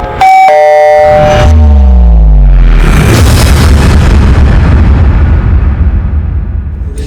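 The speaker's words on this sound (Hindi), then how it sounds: "आपके घर से बड़े जोर के धमाके की आवाज आई है" A doorbell-like chime rings, then a loud, booming blast erupts and rumbles on, fading slowly with debris-like noise.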